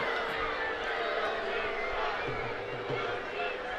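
At a professional soccer match between Charleston Battery and Richmond Kickers, a stadium crowd keeps up a broad, steady roar of disapproval at the referee, distant and sustained under a commentator's voice.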